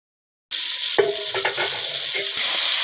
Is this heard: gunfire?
no